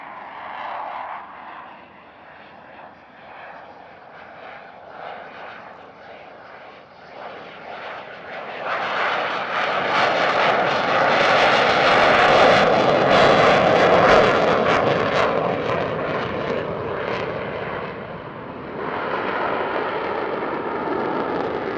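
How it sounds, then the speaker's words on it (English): At an airshow, a military aircraft flies a slow pass at minimum speed and high angle of attack, its engine drone rising and falling with throttle changes, growing louder to a sustained roar midway. "Captain Jérôme Toul brings the aircraft down to its minimum speed and its maximum angle of attack, just using changes to the throttle settings"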